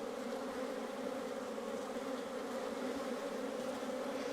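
A dense, steady buzz of many bees swarming close by around a hive on a Portuguese farm, continuous and loud with no pauses or voices.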